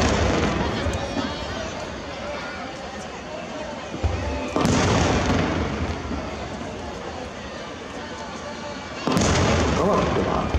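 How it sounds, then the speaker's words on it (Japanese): Aerial fireworks at the 2018 Nagashima fireworks display boom and crackle in dense, continuous bursts, with sharp loud blasts at intervals over a constant roar of smaller pops. "それでは再び打ち上げ花火に入ります。"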